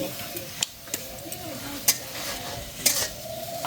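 Fresh home-grown vegetables fry in a pan with a steady close sizzle, broken by several sharp scrapes and clinks of a utensil stirring against the metal.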